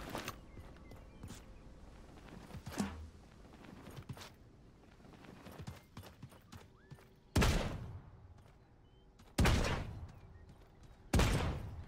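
Gunfire from a weapon in the battle royale game Realm Royale: three loud, sharp shots spaced about two seconds apart, preceded by quieter scattered clatter and footstep-like taps.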